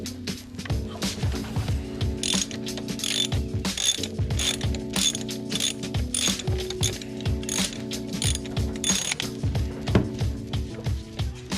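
Rapid ratchet clicking from a T30 Torx bit driving a valve cover bolt on a BMW E28 engine, a steady close run of pawl clicks with continuous mechanical chatter and no talking.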